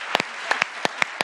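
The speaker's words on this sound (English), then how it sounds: "Please join me in giving them a huge round of applause." A handful of scattered claps from a conference audience applauding two competing teams, roughly seven crisp, uneven hand claps in quick succession, close and dry, with no talking over them.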